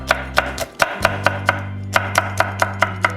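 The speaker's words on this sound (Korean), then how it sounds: "청양고추도 썰어보도록 하겠습니다" A knife chops green chili peppers rapidly on a cutting board, about a dozen sharp, evenly spaced strikes close by, over a low steady hum.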